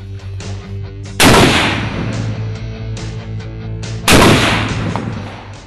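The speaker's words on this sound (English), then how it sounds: "We basically stopped a 50 caliber ball round in 2 hits without it penetrating our first layer." .50 caliber ball rounds fired at an armor plate: two loud, sharp gunshots about three seconds apart, each booming and decaying, over a constant low background hum.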